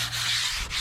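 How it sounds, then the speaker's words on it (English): Light hand sanding on a fiberglass car body panel of a Nissan Skyline under repair, a steady close scratchy rubbing stroke that dips briefly once, with no talk. "I might get a light sand here so it's not a sharp line"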